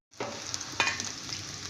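Chopped onion dropped into hot oil in a wok, bursting into a sudden loud sizzle that carries on with sharp crackles and a stirring scrape.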